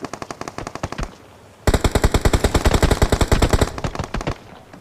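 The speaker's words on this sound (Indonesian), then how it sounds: "Apa aing nembak si Agung" Automatic gunfire in the mobile shooter PUBG Mobile: a short rapid burst, a brief pause, then a longer sustained string of loud, evenly spaced shots close up.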